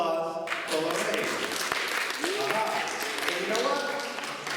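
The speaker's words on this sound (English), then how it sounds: "How about a round of applause for Lorraine?" An audience applauds a volunteer after a rat trap demonstration, a dense round of clapping that runs steadily, with a few voices and taps mixed in close by.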